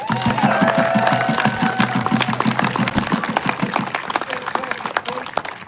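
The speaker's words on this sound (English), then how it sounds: "Can we give them a big round of applause?" A crowd claps and cheers continuously at an outdoor protest in Ann Arbor, Michigan, dense applause filling the space, with a voice audible over it at the start.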